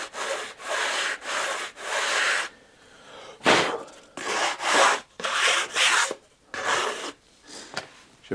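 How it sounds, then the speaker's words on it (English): Sanding block rubbed along the bandsaw-cut leading edge of an aileron and trailing edge of a balsa RC plane wing, a close scratchy rasp in repeated strokes with short pauses between passes. "just square the leading edge of the aileron and the trailing edge of the wing as well with a block"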